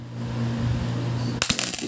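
Coins clatter and jingle in a short, close burst of metallic clinks after a quiet stretch of low hum, as loose change is handled and sorted during a coin search.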